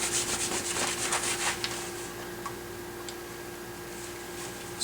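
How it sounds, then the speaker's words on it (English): Coarse abrasive rubbed along wood while building an electric guitar, a series of quick rasping strokes early on that thin out into faint scrapes and a low steady hum, with no speech. "it's coarse enough that I just rub this along the wood."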